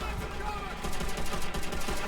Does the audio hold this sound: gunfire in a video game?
yes